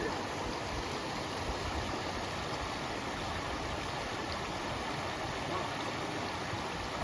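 A stream at a hiking-trail crossing in Finland's Kevo Canyon rushes and gurgles in a steady, close, unbroken wash of flowing water, with no voices over it.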